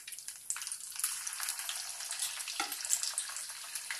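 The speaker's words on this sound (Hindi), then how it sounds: "पीसेस फ्राई कर रही हूँ" Chicken 65 pieces frying in hot oil, a steady hissing sizzle that is moderately close and continuous, rising slightly after the start, with no talk.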